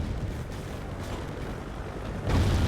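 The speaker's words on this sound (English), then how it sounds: "It's strange, though, all the gunfire." New Year's Eve gunfire with tracer bullets in Dunedin, heard as dense, continuous distant rumbling with popping bursts, swelling louder near the end; no talking.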